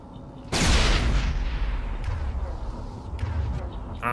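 A single loud grenade explosion in the video game Mass Effect bursts suddenly, then a long rumbling decay trails off into quieter game ambience.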